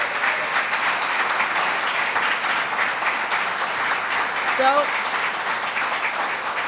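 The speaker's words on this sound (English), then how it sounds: "Let's give that a round of applause." Crowd applause at an outdoor Jones Beach event holds steady and loud for several seconds, a dense wash of clapping with a brief voice near the end.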